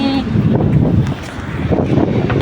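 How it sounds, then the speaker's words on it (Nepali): Cold wind gusting outdoors, rushing and buffeting loudly against the microphone in a continuous rumble. "जाडो हावा पनि चलिरहेको छ सिमसिमे"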